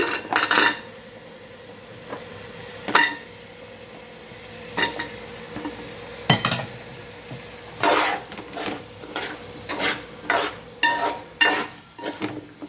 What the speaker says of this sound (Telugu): ఇప్పుడు దీనిలో మునక్కాయ ముక్కలు వేసేసుకుందాము.